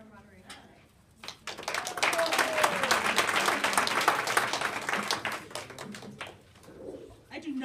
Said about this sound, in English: I do not get enough applause in my life.